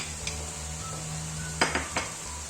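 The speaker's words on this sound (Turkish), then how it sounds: "salçamla da karıştırıyorum" A spoon stirs pepper and tomato paste in a frying pan, with a steady sizzle and a few short scraping clinks of metal against the pan.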